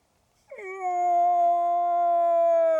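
A person imitates a moose call: a single long, loud, sustained nasal bellow that rises at the start and then holds steady, alone with no other sound.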